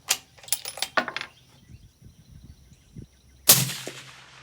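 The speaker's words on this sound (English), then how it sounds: "Let's see if the next shot will actually touch." A single rifle shot fired with Hornady A-Tip 153 grain match ammunition from a cold bore, one sharp loud report near the end after a few quieter clicks and knocks.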